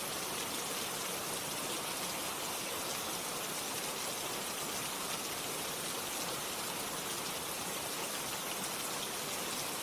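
Steady, even rain pours down without pause, a dense wash of droplets hitting a surface, close and constant, with no voices or other sounds.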